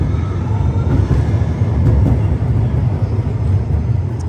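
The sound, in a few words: tram passing in Munich city center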